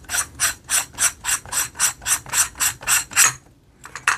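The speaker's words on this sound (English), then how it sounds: "now we're gonna unscrew the shroud" A barrel shroud is unscrewed from a JTS gun, giving about a dozen evenly spaced raspy ratcheting clicks at close range, then a short pause and a couple more.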